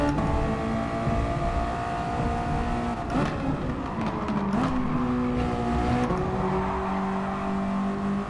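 A race car in Gran Turismo Sport drones through a corner under trail braking, its engine pitch dipping and then rising again in a steady, close whine with a brief rough patch midway and no speech.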